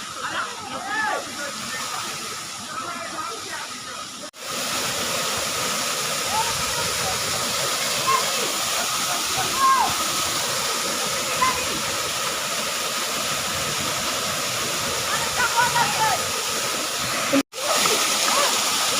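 Dholai waterfall near Silchar in the Barak Valley pours with a loud, steady, broadband rushing roar that fills the whole stretch, while someone talks over it.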